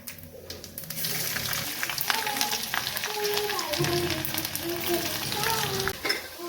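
Cumin, salt and garlic go into hot oil and crackle and sizzle loudly, with stirring scrapes over a steady frying hiss; close, with a little talking in the background.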